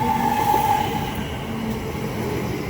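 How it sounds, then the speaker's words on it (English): A London Northwestern Railway Class 730 electric train pulls into Watford Junction station on a Euston to Bletchley service. A loud, continuous rumble fills the clip, with a steady high wheel squeal running through it. "730-010, squealing our way in with the 1752 London North Western Railway service from London Euston to Bletchley."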